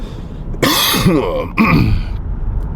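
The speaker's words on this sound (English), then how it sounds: "sorry for the cough." Two harsh, throaty coughs in quick succession, close and loud, with no talking.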